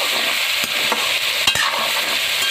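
Potatoes and pointed gourd are stir-fried for a curry in a pan, giving a steady, close sizzle with occasional scrapes of the stirring utensil and no talking.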